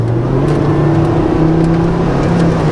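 A Volvo S60 2.5T five-cylinder engine drones loud and close with a throaty, uneven tone, holding steady revs rather than climbing.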